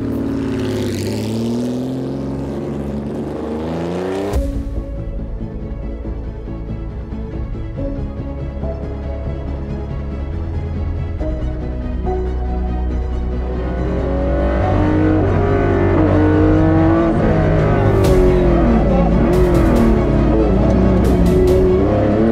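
A vintage rally car with a racing record competes on thick, grippy asphalt at the 2023 Tour de Corse, its engine note loud and close, revving and shifting as it passes, building in intensity toward the end, with no talk.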